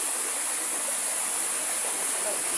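Waterfall at Busay pouring in a steady, close rush of water, a dense hiss that stays level and unbroken for the whole stretch with no talk over it.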